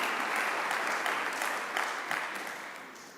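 Conference crowd applauding, dense and continuous clapping that fills the room at moderate volume, then slowly fades toward the end with no voices over it.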